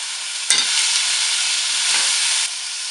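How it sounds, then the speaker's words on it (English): Chopped tomatoes, celery and carrot stir-fry in a hot pan for chickpea soup, giving a steady, close sizzle with a couple of soft stirring scrapes and no talk. "Stir fry for a few moments."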